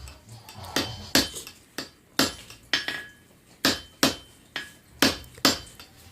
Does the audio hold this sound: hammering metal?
yes